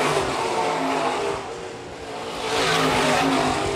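IMCA stock cars roaring around the track at Phillips County Raceway during a feature race, a loud, continuous engine drone that dips briefly and then swells again as the cars sweep past.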